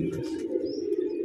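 Pigeons cooing steadily, a low throaty continuous coo close by, with faint chirps from other birds above it and no talk.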